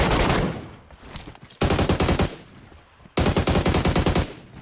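Automatic gunfire rings out in the mobile battle royale game Game for Peace. Three loud, rapid-fire bursts are separated by brief pauses, with no voices.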